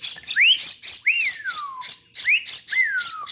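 Someone whistles to pet Martinez birds. Rising then falling whistled sweeps repeat about four times over a background of chirpy bird calls.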